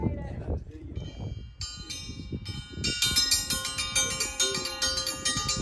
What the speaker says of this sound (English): Comes Neville getting ready to ring the dinner bell